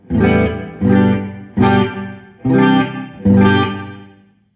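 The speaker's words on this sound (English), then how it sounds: "It's all like kind of a room reverb" Five strummed electric guitar chords in steady succession through a Carl Martin Headroom Mini room reverb, each ringing full and close before the last one decays into a brief ambient tail, played alone without speech.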